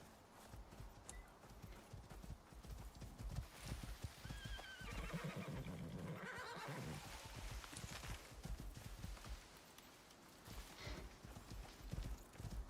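A horse in the survival game Icarus clip-clops along at a walking pace, its hooves steady and rhythmic, with a clear whinny rising midway through.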